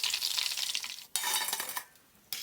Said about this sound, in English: Give them a gentle stir and fry them for about 2 minutes.